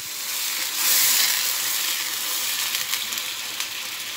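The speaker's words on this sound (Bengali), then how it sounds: "এখন এতে আমি জল দিয়ে দিচ্ছি একবার, হ্যাঁ, জল।" Water poured into a frying potato and pumpkin vegetable curry in oil, giving a steady loud hiss that swells briefly near the start, then settles into continuous sizzling and bubbling.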